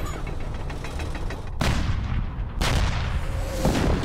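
Artillery gunfire in a tank battle, with two heavy, sharp blasts about a second apart, each trailing into rumbling noise, over a constant background of distant battlefield sound.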